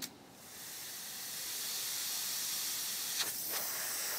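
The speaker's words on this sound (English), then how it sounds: "So you can hear the difference in the air pressure straight away." Compressed air hisses steadily from a hobby airbrush turned down to low pressure, a continuous close spray broken near the end by two brief puffs as the flow is adjusted.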